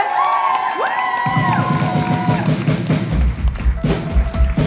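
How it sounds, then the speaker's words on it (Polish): A club concert crowd cheers and whoops for the sound engineer, with shouts rising over thumping bass-heavy music, fairly loud and close. "Wielkie brawa dla naszego dźwiękowca Mikołaja"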